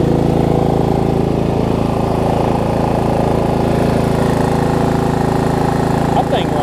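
A Murray riding lawn mower's engine idles steadily, a loud continuous low drone with a fixed rhythm throughout, close to the listener.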